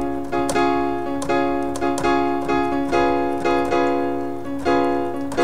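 Major chords are struck repeatedly on a keyboard, each attack ringing briefly before the next in a steady pulse, close and clear with no voice over them.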